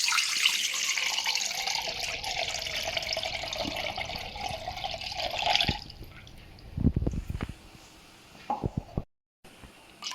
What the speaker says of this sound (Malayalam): ആദ്യം നമുക്ക് ഇതിലേക്ക് വെള്ളം ഒഴിക്കാം